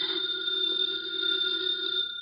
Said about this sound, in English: The phone is ringing. Let it ring.